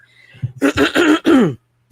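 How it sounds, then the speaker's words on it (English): Someone clears their throat in a few rough, harsh bursts up close, from a persistent frog in the throat, followed by a short pause and a faint start of another. "if you've been hearing me clearing my throat today, I must apologize"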